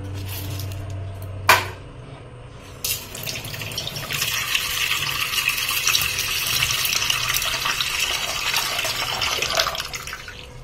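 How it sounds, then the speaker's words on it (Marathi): Running tap water pours steadily over lentils being washed in a home kitchen, starting after a couple of clinks and continuing as a constant splashing rush. "आता स्वच्छ धुवून घेऊ।"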